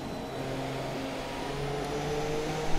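Haas Formula 1 car engine in the F1 2017 racing game at the Bahrain Grand Prix, a steady droning engine tone held at a constant level with a faint whir throughout and no speech.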